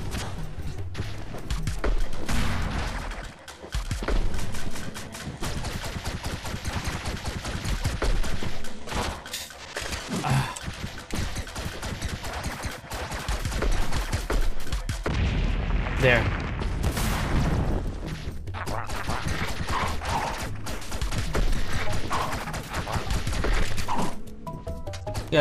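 Rapid bursts of gunfire from the Owlboy video game rattle on continuously, dense and fairly loud, with a voice speaking over them at times.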